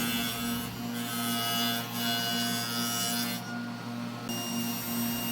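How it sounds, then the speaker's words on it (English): A dado blade on a saw cuts a rabbet into the back of a wood panel, giving a steady rasping whir over the machine's hum that continues for several seconds. "using a 1/4-inch dado blade to cut a rabbet on the back of each panel"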